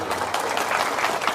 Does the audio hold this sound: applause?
yes